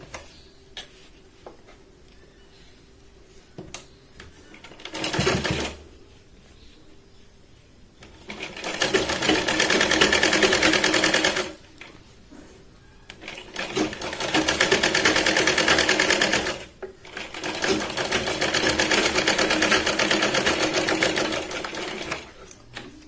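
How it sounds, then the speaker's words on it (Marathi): Sewing machine stitching a katori blouse: several bursts of fast, steady mechanical whirring and ticking, each lasting a few seconds, separated by quieter pauses with faint handling sounds, close and without talk. "परत एकदा तिथेच आपण शिलाई लावून घेतोय"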